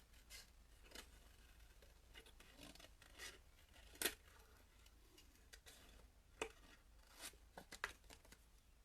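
Quiet, close snips and paper rustling as scissors cut a small paper flourish for a watercolour card, with a few sharper clicks spaced out over a soft background.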